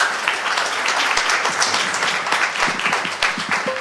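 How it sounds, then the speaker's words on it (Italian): An audience at a Soroptimist club ceremony in Agrigento claps, a steady dense round of applause from many hands, close and continuous for a few seconds. "Quindi facciamo un applauso."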